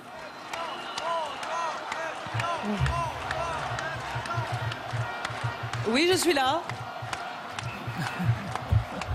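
A crowd of tens of thousands at Place de la Bastille, Paris, celebrating François Hollande's election victory: a broad, distant roar with scattered cheers and whistles, running continuously under someone talking close to the microphone.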